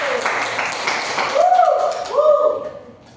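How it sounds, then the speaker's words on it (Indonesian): A group in a badminton class gives a short burst of applause, the clapping mixed with voices and a cheer that rises and fades. "Tepuk tangan dulu"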